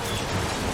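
Steady rain hissing and pattering in the video game Heavy Rain, a dense even wash of sound with no voices.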